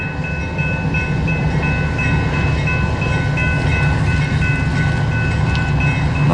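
A CSX freight train locomotive powers up and begins rolling, a steady loud rumble with a low engine drone and faint tonal whine running unbroken throughout.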